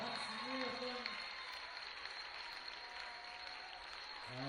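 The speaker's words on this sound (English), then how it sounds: "Let's give both all the takers a big round of applause." A crowd applauds after a field hockey shootout between the South Africa and Netherlands men's teams, a steady, far-off wash of clapping that runs throughout beneath a faint background tone.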